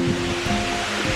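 Pha Rado waterfall at Phu Hin Rong Kla: a steady, full rush of falling water with constant broadband roar, heard alone for a brief moment.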